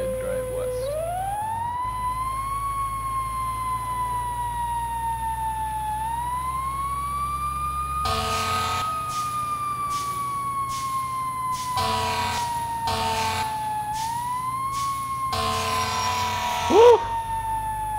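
A fire engine siren wails loudly, rising and falling through long sweeping tones, with rapid yelp bursts cutting in partway through, as the engine responds to a van fire in Manhattan.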